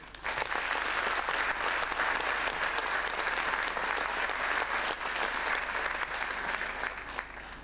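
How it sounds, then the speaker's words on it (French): Sustained applause from the audience at a New Year's greetings ceremony in France, a dense, even wash of clapping hands that continues steadily for several seconds and fades slightly at the end. "Je vous demande de nouveau de l'applaudir"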